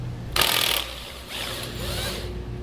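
A ratchet wrench with a 15 mm socket backs out tow hook bolts on a 2006 Ford F-250 during a front hitch install. A short, close burst of rapid clicking comes first, then a longer, softer stretch of ratcheting with no talk.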